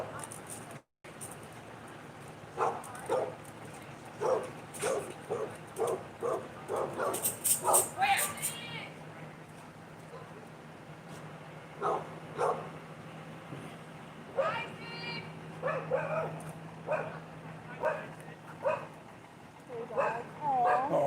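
A frightened dog whimpers and gives bursts of short barks and yips, some loud and near, some fainter, in an irregular pattern over a steady background hum, with people talking at times.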